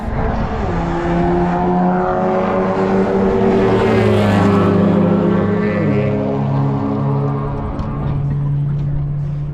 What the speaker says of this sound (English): Are we going to have a drag race with the Golf?